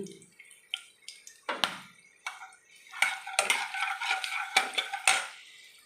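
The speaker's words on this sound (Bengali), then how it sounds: "ভেজে রাখা তেলের মধ্যেই আমি গোটা এলাচ লং দিয়ে দিলাম ফোড়নে সামান্য একটু হিং" Whole cardamom, cloves and a pinch of asafoetida sizzling in hot oil, with scattered crackles, pops and spits in short bursts, thickening into a busier sizzle toward the end.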